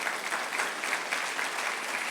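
A church congregation claps loudly in a dense, continuous burst of applause that fills the room with no pause.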